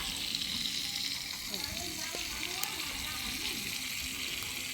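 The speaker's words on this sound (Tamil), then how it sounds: "இங்கால மீன் பொரியல் பொறிச்சு கொண்டிருக்கிறோம்" Fish frying in a pan in a village home kitchen, a steady loud sizzle and crackle throughout, with a voice talking over it.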